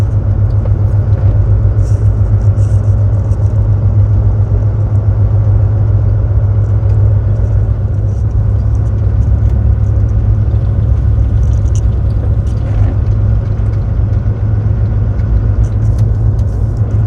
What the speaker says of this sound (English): listen how smooth that truck is